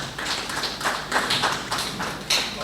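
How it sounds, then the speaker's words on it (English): Scattered applause at an indoor tribute and magazine launch event, a loose patter of claps from a modest crowd, uneven and close, with no talking. "Give me a round of applause, please"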